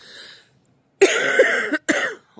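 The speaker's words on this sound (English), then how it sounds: "Sorry, really bad coughing." A few harsh, raspy coughs burst out close to the microphone in quick succession after a short quiet breath.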